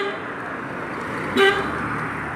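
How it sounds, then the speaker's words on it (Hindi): A car on a road beside a school and storm drain sounds one short horn toot over a steady background hum of traffic. "ये एक गाड़ी आ रही है"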